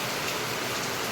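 Rain falling steadily on a rainy day, a continuous even hiss of drops throughout, soft and unbroken with no voices.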